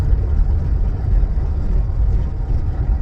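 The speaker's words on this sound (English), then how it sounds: "the way these trucks be trying to whirl past people" Trucks drive past with a heavy, continuous low engine rumble and road noise, steady and fairly loud, with no talking over it.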